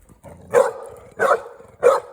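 A dog barks three times, sharp and close, with short pauses between each bark.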